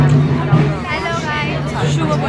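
A crowd at a Durga Puja pandal on Panchami, a dense babble of many voices with a loud nearby talker over steady hubbub.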